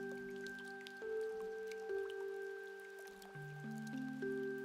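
Soft rain in the video game Omori patters as faint scattered drips beneath sustained melodic game music, quiet and even.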